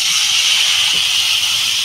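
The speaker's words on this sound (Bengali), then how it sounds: "এবার বন্ধুরা আমি জল ঢেলে দেবো।" Water poured into a hot pan of curry with turmeric and slit green chilli gives a loud, steady sizzling hiss that holds evenly throughout, close up with no talking.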